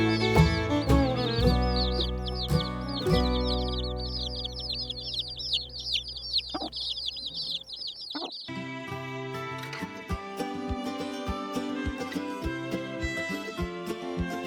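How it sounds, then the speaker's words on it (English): Baby chicks peep in a shrill, busy chorus after hatching from their shells, mixed with clucking chickens and heard over loud background music that carries on after the chirping stops. "tiny baby chicks break free from their shells"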